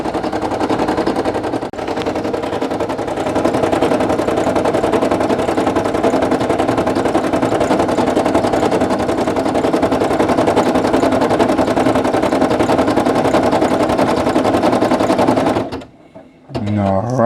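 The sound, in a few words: Brother PE800 embroidery machine stitching a patch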